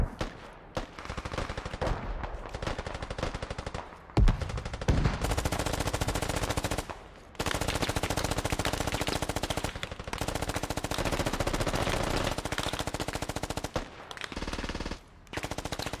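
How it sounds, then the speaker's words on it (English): Sustained machine gun fire in the video game Squad comes as long, loud, rapid automatic bursts with brief gaps between them, dense and close, with no talk over it. "Hear that MG."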